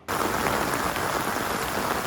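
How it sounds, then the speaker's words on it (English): Heavy rain pours steadily during rush hour in Panama's rainy season, a dense, continuous hiss of drops on surfaces that stays loud and even throughout, with no voices. "It rains here."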